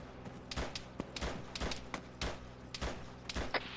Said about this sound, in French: Je crois qu'on commence à se prendre des tirs.